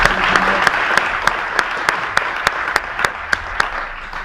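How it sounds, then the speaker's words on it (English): An audience applauds to welcome the speaker Ramon onto the stage at a cross-industry innovation event, a dense sustained wash of clapping with sharper individual claps standing out, steady and fairly loud throughout. "So please help me give Ramon a warm round of"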